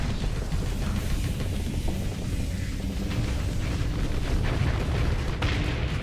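Heavy, sustained rumbling blasts from a torpedo explosion in the space game Starsector, a loud continuous roar filling the whole stretch with a sharper crack near the end.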